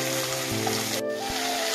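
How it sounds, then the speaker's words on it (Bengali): Vegetables fry in a pan with kalonji seeds and a little salt, a loud, steady hiss of sizzling oil broken by a brief pause, with a faint steady hum beneath. "একটু সবজিগুলো ভালো করে ভেজে নিতে হবে"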